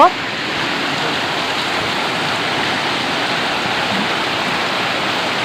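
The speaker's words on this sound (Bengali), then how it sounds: "এত জোরে বৃষ্টি হচ্ছে আজকে" Heavy rain pours down in a loud, steady roar of broadband hiss, constant from start to finish with no pauses or voices.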